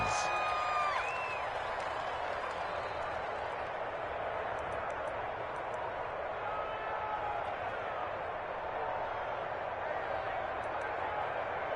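Football stadium crowd in a video game roaring as a steady, dense wash of cheering and applause, with faint whistles and commentary voices over it.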